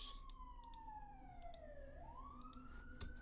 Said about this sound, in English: Again, the ambulance.